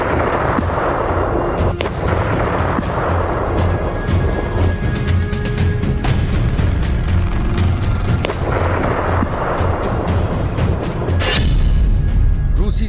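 Massive explosions and blasts rip through a missile depot in eastern Ukraine under attack, a continuous loud roar of repeated booms and rumbling detonations lasting throughout, with heavy low-end concussion.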